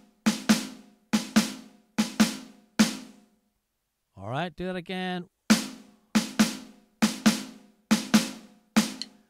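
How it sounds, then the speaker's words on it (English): Snare drum plays a 4/4 bar of dotted quaver and semiquaver skip notes, crisp paired hits in a steady bouncing rhythm, close and loud; someone briefly speaks in the middle before the pattern resumes. "If I had a whole bar on the snare drum of dotted quaver, semi-quaver notes, that would sound like this here"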